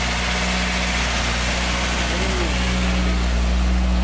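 A Toyota AE86 fitted with a Martelius header and Fujitsubo exhaust idles on first start, a steady low, loud engine drone throughout with faint voices in the background.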